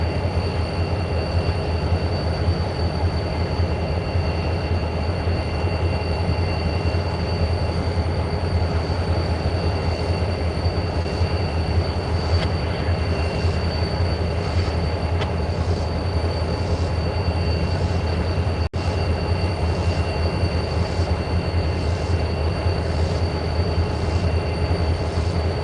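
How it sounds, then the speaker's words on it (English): A Norfolk Southern freight train, NS 179 led by CP Heritage locomotive 7015 with NS 1832, rolls steadily past Coffey's Cliff, a continuous loud rumble of wagons and wheels with faint squeal, alone without talk. "we have another inbound train."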